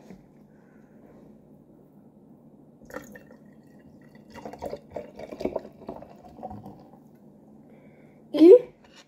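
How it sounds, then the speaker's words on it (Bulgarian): Sparkling water is poured into a glass of homemade lemonade, giving a quiet run of fizzy splashes and drips, followed by a short burst of voice. "и газираната вода, малко изпръска."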